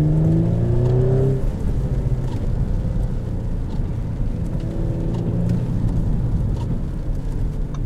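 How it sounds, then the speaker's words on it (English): A 2018 Audi S4 with a 354-horsepower V6 drives and accelerates. Its engine note climbs at first, then settles into a loud, steady road drone that lasts throughout. "You guys want to see me drive it, so let's go for a drive."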